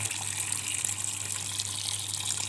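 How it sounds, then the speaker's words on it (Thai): Water gushes hard and steady from a washing machine inlet tap after its clogged filter screen is cleaned, a dense close hiss with a faint low hum underneath. "ตอนนี้ก็ น้ำไหลแรงขึ้น"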